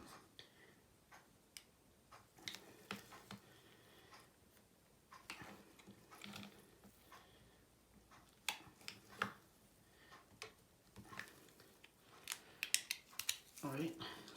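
A hobby knife or scissors trimming a LEGO Batman cowl, quiet close clicks and snips scattered irregularly through the clip, with speech faintly present around the cuts.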